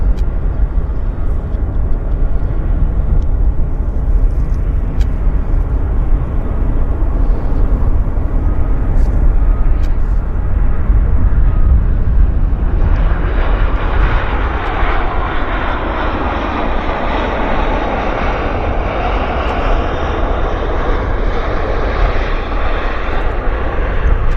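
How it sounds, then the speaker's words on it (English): A CRJ regional jet landing at Vancouver airport, its engine roar loud and steady, then shifting into a broader rushing whoosh as it passes and rolls out, with no talk over it. "Got a CRJ landing here."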